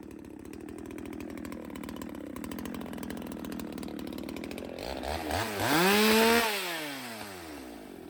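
Chainsaw cutting through storm-felled trees outdoors, a steady buzzing drone that swells as the saw bites into the wood, then revs higher before easing back toward idle, close and loud throughout.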